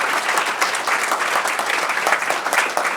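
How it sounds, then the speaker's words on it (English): Audience at an innovation and entrepreneurship event clapping for the panellists, with brisk, dense applause from a modest crowd that stays even and lively through the short burst. "If you would like to give them a little round of applause."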